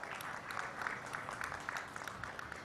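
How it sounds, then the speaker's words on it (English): Faint, distant clapping from an audience at a hospital stroke symposium, a thin steady patter of applause as a doctor is called to the stage. "let's have a huge round of applause for Dr."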